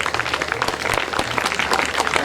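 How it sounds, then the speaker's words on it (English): Steady applause from a crowd at an annual general meeting and conference, many hands clapping densely and continuously at close range, with some voices mixed in. "Round of applause for him."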